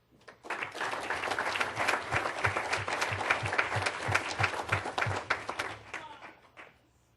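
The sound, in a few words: applause for Siki Liu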